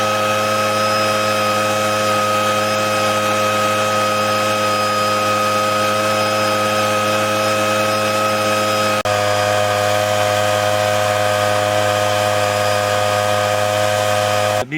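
Motor of a homemade hazelnut picking machine built from a trash bin, a loud steady mechanical hum with strong even tones running without pause, slightly shifting pitch partway through before a sudden stop at the end.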